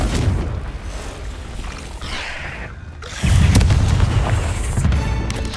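A Confringo fire spell goes off in the video game Hogwarts Legacy, a booming explosion that swells after a brief lull and then rumbles on amid other game effects.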